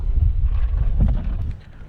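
Gusty autumn wind rumbles across a microphone at a fishing pond, a brief low, buffeting roar that eases off toward the end.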